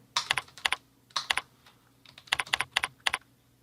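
Code is typed on a computer keyboard in quick bursts of crisp, close key clicks, with short pauses between groups of strokes and no talking.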